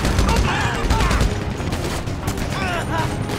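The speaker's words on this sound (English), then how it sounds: "A lot of shooting." Sustained gunfire from a GTA Online shootout during the Los Santos Drug Wars missions, dense continuous bursts over a loud noisy background with game sounds, while people talk over it.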